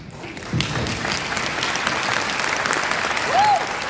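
A crowd applauds steadily and loudly throughout, with a voice briefly audible over the clapping.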